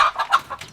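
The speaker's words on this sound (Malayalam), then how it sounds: "കോഴിയുണ്ട്. ഇതാ ഇവിടുത്തെ കോഴി." A chicken in an Uzbek village gives a few quick, close clucks in a short burst.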